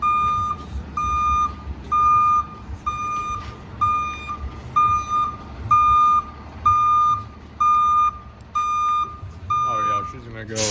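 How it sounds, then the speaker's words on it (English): Loud electronic reversing beeps from a tow truck repeat at a steady, regular pace, with engine rumble and some background voices underneath. "now we just gotta wait for the tow truck."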